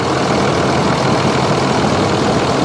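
A loud, steady RAM 3500 Cummins diesel engine idling nearby, running rough and apparently down a cylinder, a dense continuous rumble with a slightly uneven texture and no talking.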